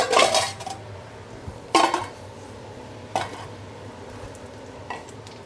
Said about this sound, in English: We'll put the rest of our raw garlic in. We're gonna let that sizzle.